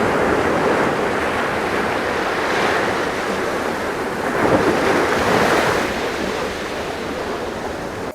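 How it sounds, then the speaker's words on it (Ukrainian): Steady roar of sea surf with waves washing in continuously, a broad rushing wash swelling slightly midway, with some wind noise and no voices. "Так, діти, це звуки моря."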